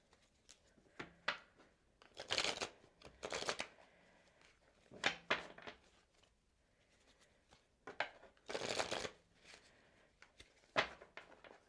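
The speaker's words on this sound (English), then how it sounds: "I'm going to pull tarot cards" Tarot cards being shuffled by hand in several quick riffling bursts separated by short pauses and softer handling sounds, all quiet and close with no speech.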